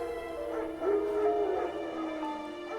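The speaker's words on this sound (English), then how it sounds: "Wild dogs." Wild dogs barking and yipping in The Witcher 3, a few sharp barks and a whining howl over a steady game backdrop, fairly close.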